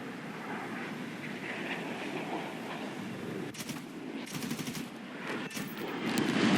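Aircraft cannon from an F9F-8 Cougar strafing a tank in War Thunder: a rapid, continuous stream of gunfire at moderate level, with a rushing engine-like roar building toward the end.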